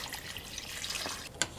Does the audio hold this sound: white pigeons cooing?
no